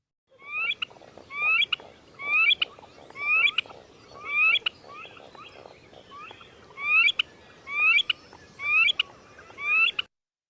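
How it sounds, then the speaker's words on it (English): A grebe gives a repeated three-part rising call, about nine clear phrases in a steady rhythm with a short pause midway, close and alone over a quiet background. "they make a call that kind of goes, poo-wee-chick, poo-wee-chick"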